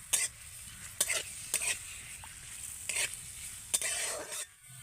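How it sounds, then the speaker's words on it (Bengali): Ginger and chopped green chilli frying in oil for egg cutlets, a soft steady sizzle broken by repeated scraping spatula strokes against the pan, close and fairly quiet. "এবার এগুলোকে তেলের মধ্যে ভালো করে আমি ভেজে নেব।"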